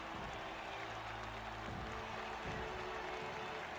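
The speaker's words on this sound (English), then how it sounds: "you're really making it a point to show everyone clapping" A crowd clapping and cheering in the video game Metaphor: ReFantazio, a faint, even wash of applause under low droning game music, with a speaking voice running over it.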